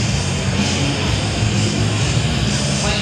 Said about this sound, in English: These slant profile foam planes are designed for advanced 3D aerobatic maneuvers and pilots.